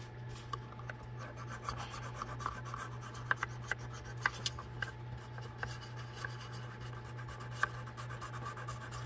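Metal tweezers scratching a stainless steel surface while pressed down, a soft continuous rasping with faint irregular clicks over a steady low electrical hum, close and quiet.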